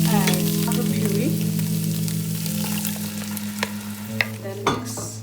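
Curry base for potato and lamb curry sizzles and fries in a pan as it is stirred, a steady loud crackle with scraping spoon strokes and a few sharper clinks near the end.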